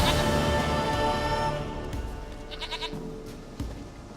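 A goat in The Witcher 3 video game gives a few bleats over a fading wash of game ambience and music, fairly clear with sharp brief sounds near the end.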